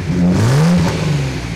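A 1972 Datsun 240Z with a 2.4-litre L24 inline-six on twin carburettors revs up, its smooth, loud engine note climbing and then easing off in one close, steady sweep without any talk.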